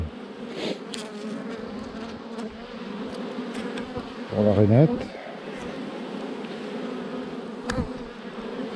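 A steady buzzing of honey bees at a hive with a Caucasian queen hums throughout, with a person talking briefly in French partway through.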